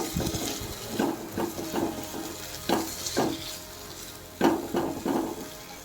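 Tomatoes with a little salt frying in a pan for a rohu fish curry with potato and cauliflower, a steady sizzle broken by about eight scraping stirs at irregular intervals, close and fairly loud.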